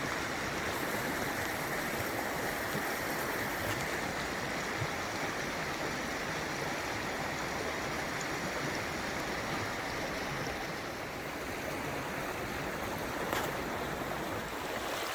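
An outdoor stream rushes steadily and loudly, a dense continuous wash of flowing water with no pauses and no voices.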